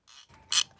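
The thumbwheel of a Fujica PicPal film camera is wound, giving a short mechanical ratcheting click sequence that ends in one sharp, close, louder click.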